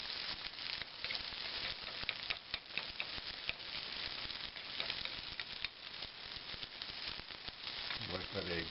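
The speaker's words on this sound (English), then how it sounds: "Let that egg start cooking around the edges here." A single egg cracked into a hot pan sizzles and crackles steadily for a breakfast burrito, a fine continuous frying hiss with small popping ticks, heard fairly close and alone.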